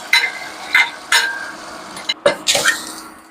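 Fried onions tipped into a sizzling curry, several sharp clanks and scrapes of a utensil against the pan over a soft steady sizzle, close and fairly loud.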